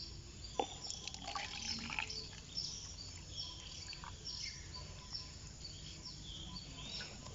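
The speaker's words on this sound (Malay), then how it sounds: "kita tuangkan air pupuk NPK ni ke dalam gelas ni ya" Liquid NPK fertilizer solution poured into a glass outdoors, a faint trickle with scattered drips under soft background ambience and distant bird calls.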